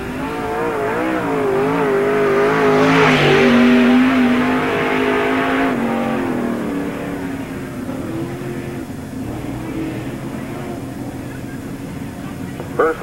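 NASCAR Busch All Star Tour stock car, the 1D, lapping Tri City Speedway in 1997, its engine wailing loud and rising as it passes near, then fading into a steady distant drone as it circles the track, with a track announcer talking over it.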